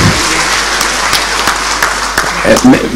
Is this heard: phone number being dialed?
no